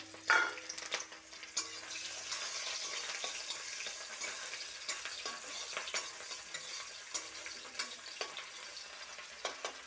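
Onions frying in a pan for a Bengali Malabar spinach curry give a steady, close sizzle with repeated stirring scrapes and occasional clinks, continuing alone without talk.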